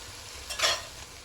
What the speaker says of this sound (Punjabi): ਲੋ ਜੀ ਤੜਕਾ ਇੱਧਰ ਭੁੱਜਦਾ ਪਿਆ ਆ